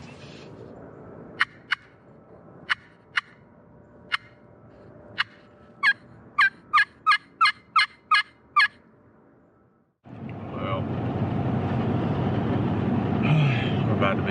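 A wild turkey gobbler gobbles in the woods, a string of sharp, clear calls rising to a quick burst of gobbles, followed by a steady rushing noise that swells up near the end.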